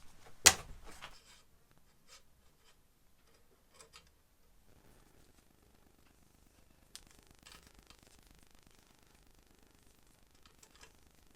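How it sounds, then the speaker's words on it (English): The bolt of a Gamo Arrow PCP airgun is pulled back with a sharp close click, followed by faint scattered ticks and small mechanical clicks as the magazine is removed, quiet overall. "Pull back the bolt, remove the magazine."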